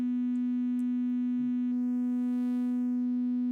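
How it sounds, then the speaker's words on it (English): Near-sine single-cycle oscillator tone from the Drambo synth app, a steady pure low hum held at constant pitch, loud and alone, with a faint click partway through. "you know, it's almost a sine wave."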